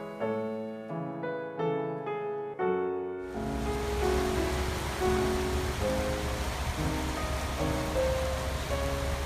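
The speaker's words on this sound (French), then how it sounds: "Il pleut." Rain falls steadily in open Danish countryside, a broad, even hiss that sets in after a few seconds of sustained piano-like tones and then fills the rest of the clip.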